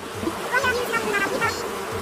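Bees buzzing in the Animal Crossing video game, a short, close, fluttering hum with small rising and falling pulses that carries on steadily through the clip.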